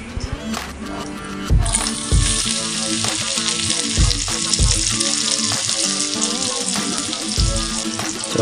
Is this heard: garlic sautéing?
yes